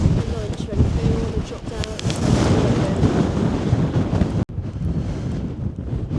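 Strong, cold wind buffets the microphone on a Lake District fell summit, roaring and gusting loudly throughout with a brief cut near the end.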